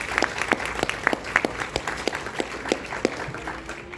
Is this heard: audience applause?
yes